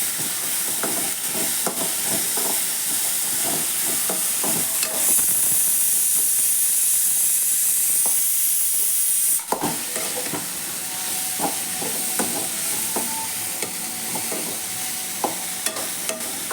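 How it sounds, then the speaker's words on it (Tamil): Chopped flat beans fry in hot oil while being stirred, a continuous close sizzle with scraping spoon strokes against the pan, briefly dipping midway before the frying hiss resumes. "தட்டங்காயை இப்படி அரிஞ்சு வச்சுருக்கேன். இதையும் நல்லா கிளறி விட்டுக்குவோம்."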